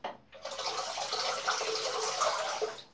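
Running water streams steadily from a tap as a Parker SoloEdge razor is rinsed beneath it, a close, continuous splashing rush that starts abruptly and holds for a few seconds with small flutters.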